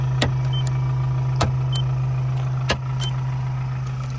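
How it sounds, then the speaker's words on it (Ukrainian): A 2021 Ford Transit L3H2 Trend van idles evenly with a steady low hum, broken by a few short sharp clicks and taps nearby. "Двигун працює гарно."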